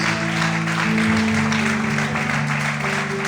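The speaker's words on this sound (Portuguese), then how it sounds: "Você pode aplaudir o Senhor por isso" A church congregation applauds during a sermon, steady clapping at moderate loudness over sustained organ or keyboard chords.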